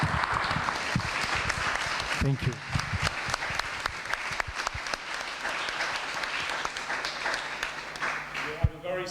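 Audience applause after a screening of a documentary about Oleg Sentsov, a dense, sustained round of clapping filling the room, with a voice briefly speaking over it near the end.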